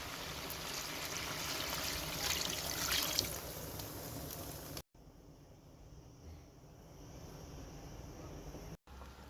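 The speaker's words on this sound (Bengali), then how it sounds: "এখন আমি গরম পানি অ্যাড করবো" Hot water pours into a pot of beef curry with potatoes, a steady rushing trickle that swells briefly, then settles into a quieter bubbling flow after a short break.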